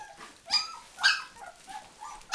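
Three-week-old puppies whimper and yip in short, high, soft bursts at feeding time, four or five thin cries spaced across the moment with a quiet room behind them.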